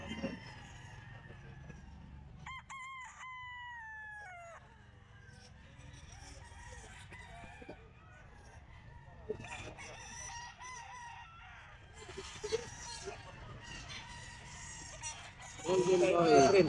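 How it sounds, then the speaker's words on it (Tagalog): Chickens and roosters at a pet market crow and cluck, with one clear crow early on, scattered clucks and bird calls throughout, and market chatter and noise rising toward the end. "Yung mga manok."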